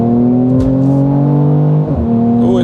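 Mercedes-AMG C43 accelerating hard in Sport Plus mode, a loud, close engine note that climbs steadily in pitch, drops briefly at a gear change, then rises again.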